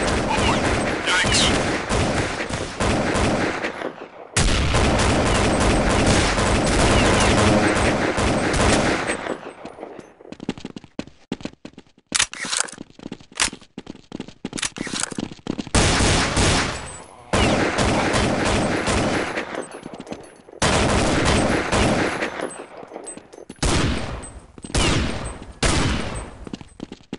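Counter-Strike gunfire, loud and close, with long sustained automatic bursts broken by short gaps and single shots, and occasional voices mixed in.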